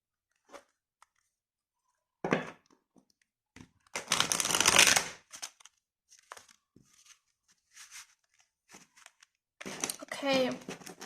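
Large tarot cards are shuffled in a quiet room: scattered soft riffles and flicks, with a longer dense burst of papery shuffling mid-way and another near the end, close and fairly faint.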